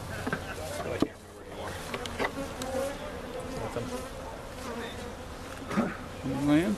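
Dense insect buzzing from many honey bees at a hive fills the clip, a steady drone with occasional louder passes close by, and faint voices murmur underneath.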